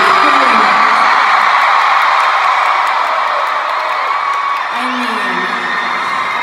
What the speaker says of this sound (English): I mean, you're screaming,